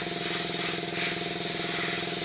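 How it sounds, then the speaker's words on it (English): An airbrush sprays steel-coloured paint onto a Bandai 1/72 scale Y-Wing model, giving a steady, close airy hiss over the continuous hum of a running compressor, with no talking. "spray everything in that lovely steel colour."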